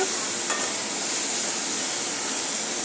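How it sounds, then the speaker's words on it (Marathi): Spice paste for a javala dried-shrimp dish frying in a pan, a dense, loud, steady sizzle with faint stirring scrapes running throughout at close range. "पेस्ट चांगली परतून घेऊ, गॅस लो करूया"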